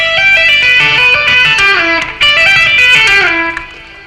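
Electric guitar hammer-on followed by a slide from G down to E, part of a rock legato lick, a run of articulated notes with audible gliding pitch, loud and unaccompanied, tapering off at the close.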